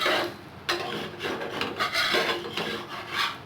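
A spatula scrapes around the edges of a suji uttapam in a pan, a close, dry rasping in several short strokes with no talking.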